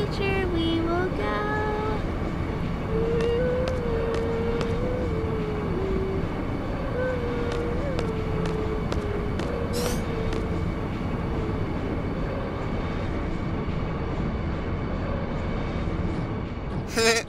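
A train in the video game Final Fantasy VIII rumbles steadily throughout with tonal whistle-like squeals and rhythmic clicks, a continuous loud running sound.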